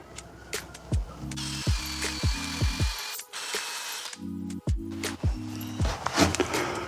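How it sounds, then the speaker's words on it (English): Drill-driven rubber eraser wheel spinning at second speed against car paint to strip badge adhesive residue, a series of short buzzing bursts with brief pauses, interspersed with sharp clicks and knocks. "we want to put this on the second speed, number 2 setting, so the wheel spins a little bit faster. That way it eats through the residue a lot quicker"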